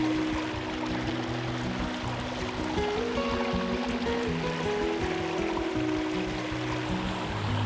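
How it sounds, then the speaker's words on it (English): Ring Brook rushing through forest, a steady close wash of flowing water with continuous broadband gurgle and splashing, alone with no voices. "taking in the sounds of the rushing water"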